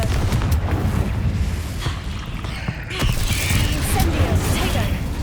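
A Confringo blasting curse in Hogwarts Legacy sets off booming spell explosions, a run of dull thuds and blasts over a rumbling bed, loud and close, with voices speaking over it.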